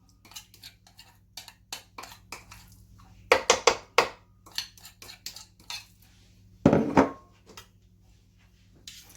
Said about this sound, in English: I use my spatula just to make sure I get all of the mixture.